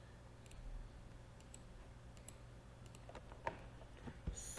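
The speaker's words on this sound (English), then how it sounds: "when I click here" Sharp computer mouse clicks, a few scattered taps over a steady low electrical hum in a quiet room during a software demonstration.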